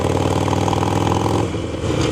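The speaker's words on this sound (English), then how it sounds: "enjoying the lovely 2-into-1 exhaust note from my custom Gallup brand 2-into-1 exhaust system" A Harley-Davidson Sportster with a custom Gallup 2-into-1 exhaust cruises a Central Florida back road, its loud, close, throaty exhaust note pulsing steadily, then dipping briefly as the throttle eases before picking back up.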